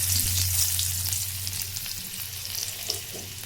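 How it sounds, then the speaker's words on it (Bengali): Crushed garlic frying in hot mustard oil in a kadai, a close, steady crackling sizzle with a faint low hum underneath, busy at first and then settling slightly. "তেলটা গরম হয়ে গিয়েছে, এখন আমি কয়েক কোয়া রসুন এখানে থেতো করে দিলাম।"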